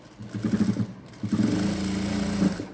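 Sewing machine running a top stitch on a blouse: a short rapid burst of stitching, a brief pause, then a longer steady run of close, even mechanical hum.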